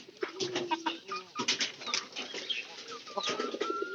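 Released pigeons gathered outside a house, cooing repeatedly at close range with scattered wing flaps and fluttering, the calls overlapping in an irregular, busy rhythm.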